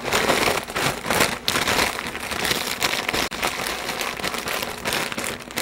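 Dense, loud crinkling and crackling fills the whole stretch as potato chips are crumpled inside a bag for a tater casserole, with no talking.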